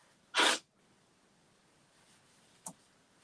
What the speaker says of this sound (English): I knew I could feel a sneeze coming.